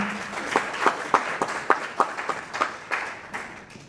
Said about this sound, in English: would you please give a round of applause for Commissioner Hogan for coming?